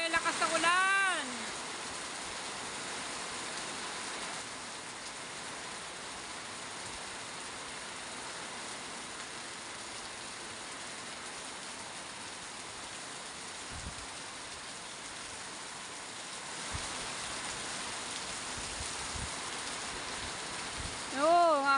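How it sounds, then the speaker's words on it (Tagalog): Heavy monsoon rain with strong wind, a steady dense hiss of downpour on surfaces lasting throughout, with brief louder bursts at the start and end, no clear talk. "Lakas na ulan!"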